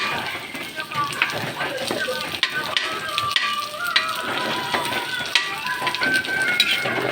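Garlic sizzles steadily in a hot frying pan, a dense crackling hiss with occasional stirring clinks, close and continuous while someone speaks over it.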